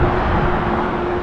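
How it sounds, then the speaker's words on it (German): Steady broadband road noise from cars passing along a busy road near Harpers Ferry on the Appalachian Trail, a continuous loud wash with no talking. "hier kommen ganz schön viele Autos."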